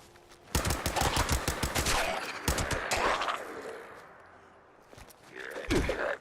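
Rapid bursts of video game gunfire crackle in quick, close, loud volleys, breaking off into a quieter pause before a final short flurry of shots.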